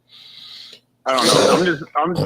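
A single sharp sneeze near the mic at the start, followed after a brief pause by someone talking in a podcast studio.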